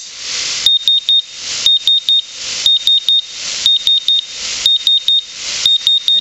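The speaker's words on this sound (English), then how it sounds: "That would be that high-pitched buzzing noise. That really hurts my ears." A gas meter's alarm during a Fenton's reagent experiment emits loud, piercing high-pitched beeps in repeated bursts of three, close up and cycling steadily over a broad hiss.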